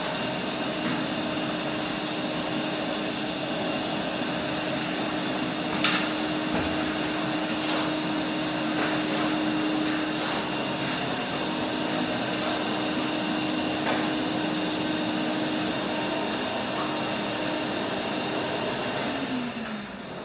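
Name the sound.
vacuum cleaner running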